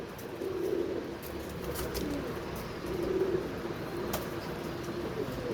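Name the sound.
pigeon cooing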